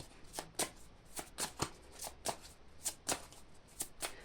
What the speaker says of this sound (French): les anges de l'amour de Dorine Virtue pour compléter ce tirage